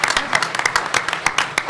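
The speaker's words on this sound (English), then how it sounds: "Can I get a round of applause for those guys?" An audience at a Defcon 14 hacker convention panel claps and cheers briefly, a dense burst of hand claps filling the room, loud and close, with some crowd noise mixed in.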